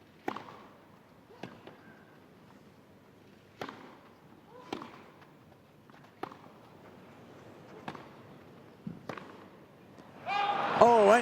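A tennis rally between Federer and Hewitt at the Halle 2010 final, with sharp ball strikes repeating every second or so, followed by crowd applause and cheering at the end.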